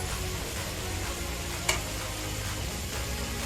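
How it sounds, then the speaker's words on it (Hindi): Pav bhaji vegetables, carrots and potatoes among them, fry in a pan with a steady, even sizzle, alone and at moderate level, broken by one brief sharp clink partway through. "अब इसे 5 मिनट के लिए अच्छे से भूनेंगे।"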